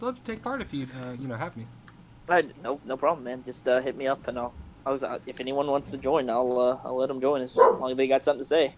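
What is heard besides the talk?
puppy dog barking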